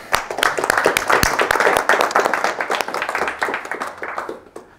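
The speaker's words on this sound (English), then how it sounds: "round of applause to Jonas." Audience claps after a university talk on brand building at LUT University, a loose, uneven patter of individual hand claps from a modest crowd, fairly close and loud, thinning out toward the end.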